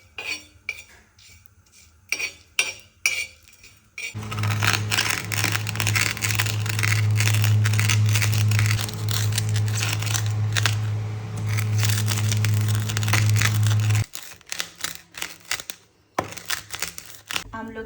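Panch phoron and dried chillies dry roast on a hot tawa, with about ten seconds of steady scraping and rattling against the pan over a low hum, framed by quieter clinks and handling noises.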